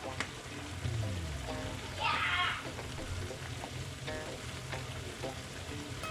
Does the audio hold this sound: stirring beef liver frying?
yes